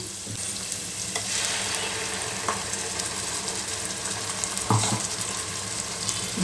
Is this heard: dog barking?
no